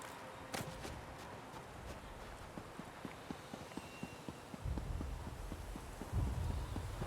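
Horse hooves clip-clopping in an online role-playing video game, a steady walking rhythm of distinct moderate hoof taps over faint background ambience, with a low rumble joining near the end.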